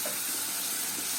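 Chili paste fries in a hot pan, giving a continuous close sizzling hiss that stays steady throughout, with no talk.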